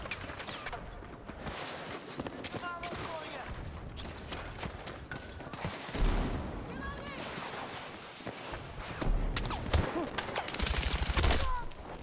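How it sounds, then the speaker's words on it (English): Gunfire in the video game Battlefield 6 crackles in rapid bursts and scattered single shots, fairly faint and mixed with other battle noise, while a person talks over much of it. "I was shooting at the sandbags and his shots hit me"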